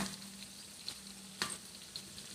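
Fish fries in oil over medium heat with a soft, steady sizzle and a few sharp pops and crackles. The sound is quiet and close, with no voices over it.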